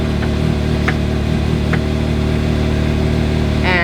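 A Toyota Camry engine runs steadily at a close, even idle, with a constant low hum and a few faint clicks and ticks over the top.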